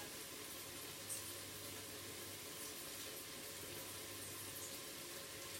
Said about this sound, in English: this is peach slices in juice, and I'm just draining off the juice